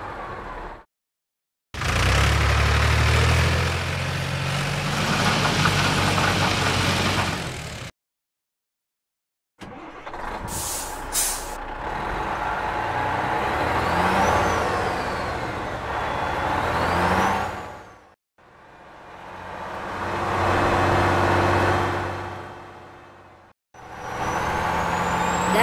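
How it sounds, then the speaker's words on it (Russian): Dump truck engine rumbling in several loud stretches separated by brief pauses, with sharp hissing air-brake bursts and a rising whir in between, heard without any talking. "землю, что тут накопали, увезем на самосвале"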